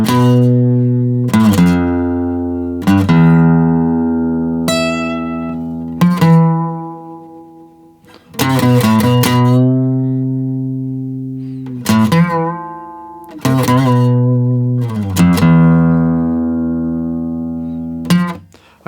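Lead guitar in standard tuning plays the opening line of a piece from the game Ghost of Yōtei, a sequence of clear picked notes and ringing sustained tones, loud and close with no talking.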